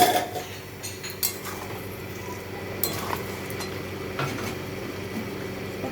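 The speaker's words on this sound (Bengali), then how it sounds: "তো এখন চাপাটা নামিয়ে নিচ্ছি।" While mutton jhol cooks, a metal lid comes off a cooking pot with a few scattered clinks and scrapes over a low steady kitchen hum, without talking.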